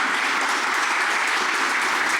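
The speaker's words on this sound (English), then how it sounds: "let's all give the District 5 candidates a huge round of applause" Steady, dense applause from an audience at a county supervisor candidate forum, honoring District 5 candidates; loud and continuous throughout with no break.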